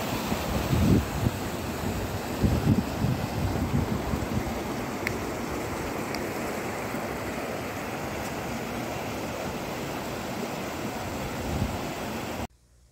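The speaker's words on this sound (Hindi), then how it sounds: "गिरती हुई पानी की बूंदें, ठंडी शीतल बूंदें" Keoti Waterfall pours in a continuous dense roar of falling water, broad and steady with no breaks, ending abruptly.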